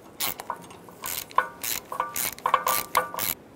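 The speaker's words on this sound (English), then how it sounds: "Snug the bolt down." Ratchet working an ABS wheel speed sensor bolt on a 2014-2018 Chevrolet Silverado 1500, a run of short metallic clicking bursts in quick uneven succession, close and fairly crisp, with no talking.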